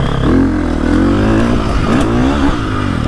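A dirt bike engine, either a 2025 KTM 350XCF or a 2024 Beta 300 Race Edition, revs loud and close on a short woods loop, its pitch rising and falling in repeated throttle blips with a steady buzzing drone.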